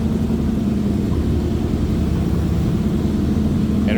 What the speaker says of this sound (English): So nice sounding exhaust, nothing crazy over the top.